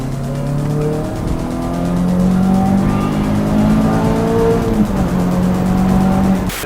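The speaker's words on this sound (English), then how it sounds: "We've got to sort the exhaust out. It's a little bit loud, it's a little bit raspy." A Peugeot 306 GTI-6 with a loud, raspy exhaust runs steadily close by, its engine note rising and holding in a continuous, buzzy drone with no talk over it.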